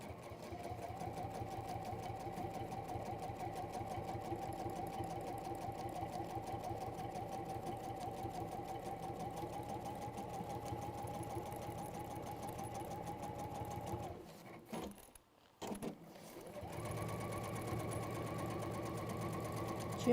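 A sewing machine runs a long, steady top-stitching pass through fabric, its rapid needle chatter close and even, pausing briefly near the end before restarting.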